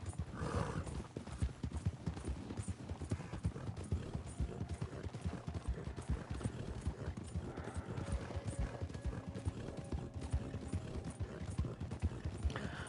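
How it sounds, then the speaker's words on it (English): Horse hooves clip-clop steadily and continuously on the ground in Red Dead Online, a dense rhythmic patter of hoofbeats at close range with an occasional whinny mixed in, and no speech over it. "My horse don't act dumb, my horse is dumb"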